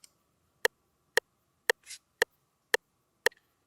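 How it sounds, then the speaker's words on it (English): A metronome set to 115 BPM ticks steadily, six sharp clicks evenly spaced about half a second apart, crisp and isolated against near silence. "So I have a metronome pull up here."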